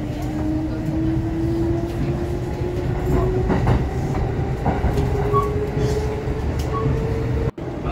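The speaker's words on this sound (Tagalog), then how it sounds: "Okay, nakasakay na tayo ng tren." A Kintetsu Rail train rolls steadily along the rails between Nagoya and Nara with a constant rumble and a faint rising whine, heard from inside the carriage.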